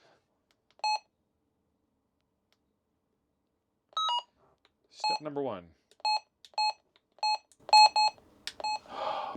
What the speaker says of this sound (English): Protect our ears. Turn the beep down.